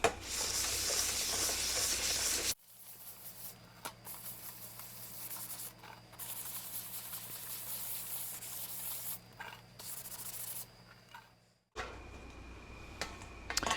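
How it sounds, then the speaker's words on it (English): Abrasive scratching scuffs the surface of a dollar-store tiered tray before painting, producing close, soft rasping rubs in sections separated by brief pauses. "I'm just scratching very small scratches into the surface"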